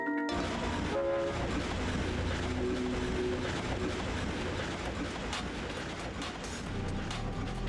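A train in the Ratchet & Clank video game rolls along its rails with a dense, continuous rumble and rattle, with faint tonal hoots early on, loud and steady throughout.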